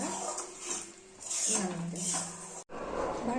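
Food stirred in a pot, with clinking spoon-on-metal scrapes and a brief clatter, close and fairly quiet, with a short break near the end.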